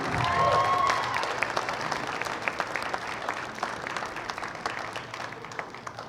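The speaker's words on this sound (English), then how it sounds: "let's have a round of applause for Will Landers" An audience applauds steadily at a senior recognition during a college wrestling meet, a dense wash of many hands clapping that starts loud and slowly tapers over several seconds with no talk.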